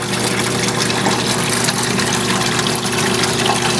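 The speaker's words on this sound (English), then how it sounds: "we're going to continue to flush the water through" Water is flushed through a commercial frozen yogurt machine during cleaning. A loud, steady rush of liquid runs with a constant pump-like hum underneath and no pauses.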